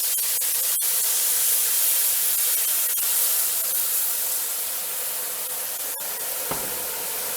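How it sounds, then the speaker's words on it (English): Beer pours into a hot pot for an Italian pot roast, a steady loud hiss and spray of steam that lasts the whole time and eases slightly near the end. "I'm going to go ahead and add our beer"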